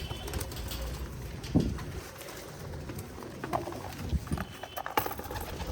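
Pigeons in a home loft give faint, soft cooing and light wing and foot sounds against a quiet, slightly noisy background.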